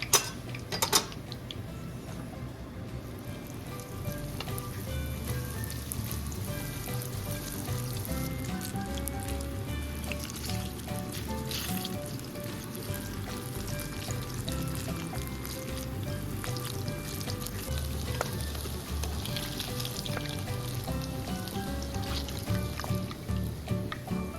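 Mini turon banana rolls with jackfruit and sesame seeds fry in a pan, giving a soft, continuous sizzle with occasional clinks of utensils. An early clatter of cookware precedes the steady, fairly quiet frying.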